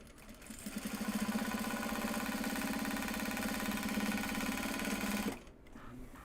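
A sewing machine stitching a project bag made from Japanese fabric hums in one continuous, steady run of rapid needle strokes for about five seconds, then stops abruptly, leaving quiet room tone.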